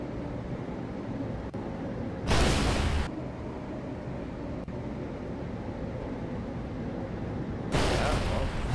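Discarded rocket pieces blow up in the atmosphere in Kerbal Space Program: two loud, broad rumbling bursts stand out above a constant roaring wind-like background.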